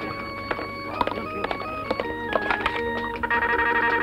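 Electronic phone tones chirp and trill repeatedly in a busy indoor space, with scattered clicks and a steady ringing pattern toward the end.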